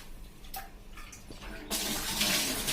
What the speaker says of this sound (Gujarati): અને એને આ રીતે આપણે નાખી દેશું બહાર પાણી